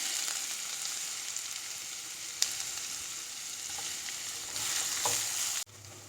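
Chopped onions frying in a pan, a soft continuous sizzle with an occasional light tap of a utensil, swelling briefly louder near the end before cutting off abruptly.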